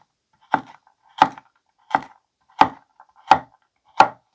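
A Paudin kitchen knife chops down through food on a board in six crisp, evenly spaced strokes, each a sharp close thunk against the cutting surface with silence between cuts.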